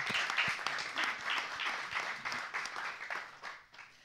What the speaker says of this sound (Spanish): Por favor, un aplauso para nuestra maestra.